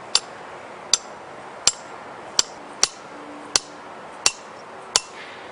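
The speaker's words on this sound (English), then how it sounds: "With the impact absorbing hammer, gently hit the" Eight evenly spaced, sharp metallic strikes of an impact-absorbing hammer on the head of a soil sampler, about one every three-quarters of a second, clear and close against a quiet background.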